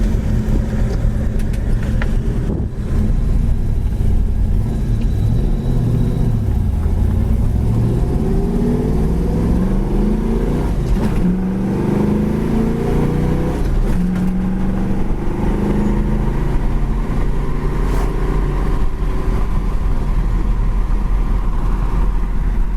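A 1966 Ford Mustang with a four-speed manual transmission cruises at highway speed, its engine droning loudly and steadily with rising and falling tones as the revs shift, heard from inside the car with no talking.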